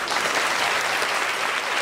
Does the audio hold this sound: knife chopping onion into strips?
no